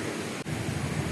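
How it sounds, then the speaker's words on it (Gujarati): The Ambika river rushes past nearby in Maharashtra, a steady broadband roar of flowing water with a brief dip in loudness partway through. "એ અંબિકા નદી જે અહીંથી પસાર થાય આ એનો અવાજ છે"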